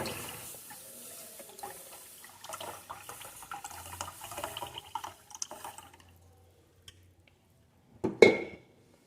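Thickened milk poured into ghee in a pot gives a soft, uneven splashing for several seconds, followed by a pause and then one sharp metallic clank.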